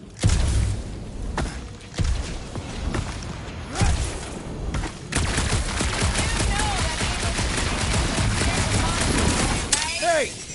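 Gunfire from shooting in the Guardians of the Galaxy video game: bursts of rapid weapon fire, loud and near, broken by short pauses, with whooshes and mechanical effects and game voices talking over it.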